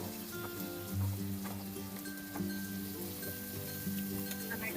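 Sliced onions sizzle and fry in a hot pan for egg semiya biryani, a steady close crackle with soft stirring scrapes and no talking.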